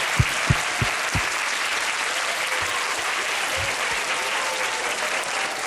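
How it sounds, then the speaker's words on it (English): An audience at a university talk at HKUST breaks into steady, dense applause, with a few sharp low thumps near the start. The clapping stays loud and even throughout, with no talking over it. "Give yourself a round of applause."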